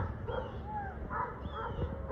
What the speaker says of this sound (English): There's like a lot of dogs barking